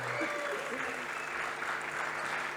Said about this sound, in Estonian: Aitäh selle sundimatu aplausi eest